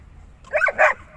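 A young German shepherd at a dog park lets out two quick, close barks in a row, loud against a quiet background.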